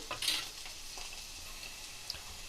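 Bitter gourd pieces fry in a pan with a steady, quiet sizzle and a few soft scraping stirs near the start, close by with no voices.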